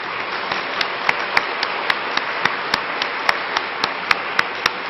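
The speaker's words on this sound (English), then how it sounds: "please join me in giving a round of applause to our platform party" Steady crowd applause at a commencement ceremony fills the space, with a few sharper individual claps popping out rhythmically near the front; no one speaks.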